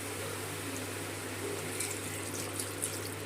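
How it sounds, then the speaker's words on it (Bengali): Water runs steadily into a cooking pan for Maggi noodles soup, a quiet continuous splashing stream without a break. "এবার এর মধ্যে জল দিয়ে দেবো"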